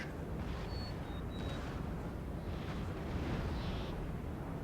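Cannon artillery fire from a battle in Napoleon Total War, heard as a steady rumbling wash of distant booms and bursts that continues throughout without any talk.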